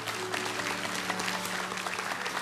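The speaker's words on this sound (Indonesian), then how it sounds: "yang setuju dengan saya, kasih tepuk tangan untuk Tuhan" A crowd claps steadily in sustained applause, dense and even throughout.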